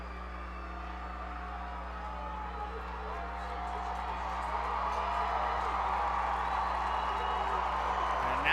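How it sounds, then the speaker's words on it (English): A high school football crowd at Manvel vs Northshore, near capacity, fills both sidelines with a low, building roar of cheering that grows louder over several seconds beneath a steady background hum. "And now the fans are getting riled up on both sidelines"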